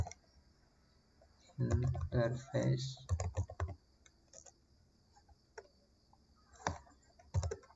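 Keystrokes on a computer keyboard while a command is entered for IPv6 network configuration, coming in short scattered clicks around and after a stretch of nearby speech.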